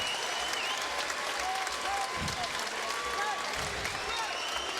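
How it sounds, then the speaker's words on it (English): A large crowd at a mixed martial arts event stands and applauds steadily after a bout, a dense wash of clapping with faint cheers rising above it. "everybody standing and cheering here, applauding the efforts of both of these great warriors"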